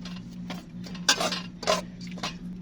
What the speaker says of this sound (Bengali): একটু নাড়িয়ে নিই।